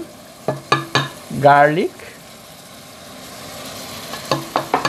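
Onion and garlic paste hits a hot frying pan for jackfruit biriyani, giving a soft sizzle with a few sharp utensil clinks at the start and end; a voice briefly speaks in the middle.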